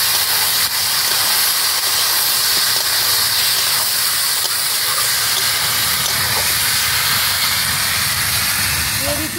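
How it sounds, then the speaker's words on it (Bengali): Chicken frying with spices in a pan for a Bengali-style country chicken curry gives off a loud, continuous close sizzle and hiss, with faint stirring scrapes underneath. "চিকেনগুলো দিয়ে দিয়েছি। এবার আমি খুব একটু ভালো করে কষিয়ে নেব।"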